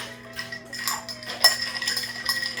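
Ice clinks and rattles in a mixing glass as a Vesper martini is stirred, bright glassy taps scattered irregularly over a faint steady hum, fairly close and moderately quiet.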